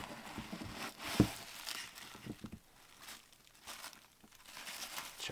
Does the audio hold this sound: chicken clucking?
no